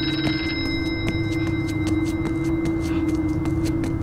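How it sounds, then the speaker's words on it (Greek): In the horror video game Horror Night VR, a telephone rings with rapid, continuous bell trills over a low steady hum, loud and close, with no voices. "Το τηλέφωνο που βαράει τώρα"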